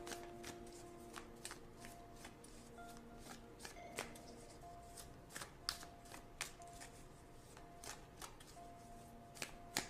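Tarot cards are shuffled nearby, with quiet riffling and soft irregular clicks that pick up into sharper snaps toward the end.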